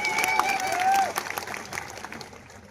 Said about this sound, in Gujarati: બધા માટે એકવાર આપણે જોરદાર તાળીઓ પાડીએ.